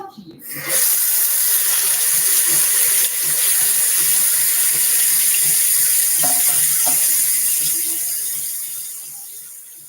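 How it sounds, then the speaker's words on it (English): A kitchen tap runs steadily while hands are scrubbed under the stream to get grease off, a continuous close splashing rush lasting several seconds before tapering off at the end. "let me wash my hands"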